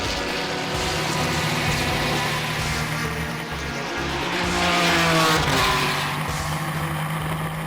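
An open-wheel race car laps a track, its engine droning and rising in pitch as it accelerates, with tires squealing through a corner, loud and close with no talk.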